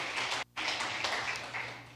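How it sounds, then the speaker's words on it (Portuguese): Church congregation clapping during a worship service, a steady, moderately distant wash of applause with a brief break partway through, then continuing evenly. "Vamos dar uma salva de palmas a Ele."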